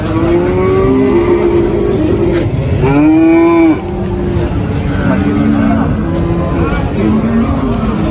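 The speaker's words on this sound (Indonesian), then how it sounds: "Ini ada sapi semetal." Simmental cattle at a livestock market give several loud, drawn-out moos over a busy background of crowd noise and engine hum, with people talking nearby.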